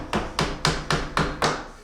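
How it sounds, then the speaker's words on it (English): A hammer taps a pre-hung door into its frame during installation: six sharp, evenly spaced wooden knocks in quick succession, close and loud, with no talking. "So you can take a hammer once you have it in there like that."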